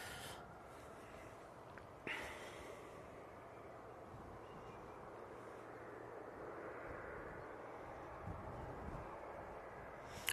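Lufthansa Airbus A380 taxiing at an airport in the morning, a faint, steady distant jet-engine rumble and hiss that holds evenly throughout.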